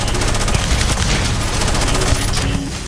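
Rapid, loud bursts of weapon fire from the sci-fi video game Starfield crackle continuously in the foreground, with dense overlapping shots and no pause.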